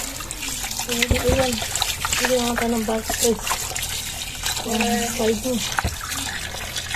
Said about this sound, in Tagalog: tanggalan po natin ng tubig at lagyan po ulit natin ng tubig